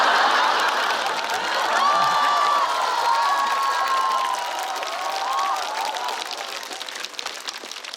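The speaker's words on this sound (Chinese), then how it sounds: "你们笑了，你们鼓掌了" A stand-up comedy audience laughs and claps in a steady, fairly loud wash of crowd noise that slowly thins out over several seconds, with no distinct speech on top.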